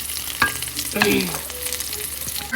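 Stir-frying puffed rice with a wooden spatula in a pan, soft scraping strokes over a constant close sizzle, with a couple of louder knocks against the pan.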